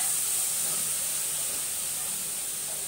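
Chopped cabbage dropped into a hot pan over dal for a tempered sabzi gives off a steady, bright sizzling hiss that stays even and fairly quiet throughout.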